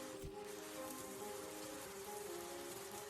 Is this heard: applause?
no